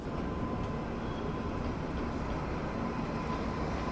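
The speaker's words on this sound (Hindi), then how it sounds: "इस तरफ से भी अच्छी खासी रफ्तार में कोई ट्रेन कानपुर सेंट्रल पहुंचने वाली है" A train runs at speed near Kanpur Central station, heard as a steady, loud rail rumble and roar that holds without a break from start to end, with no speech.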